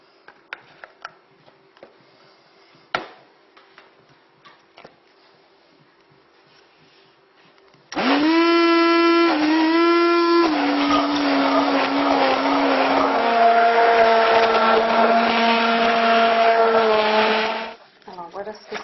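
A blender purees cooked apple compote in a separate container, starting abruptly with a loud whirring motor that dips in pitch as it bites into the fruit, then runs steadily for about ten seconds before cutting off.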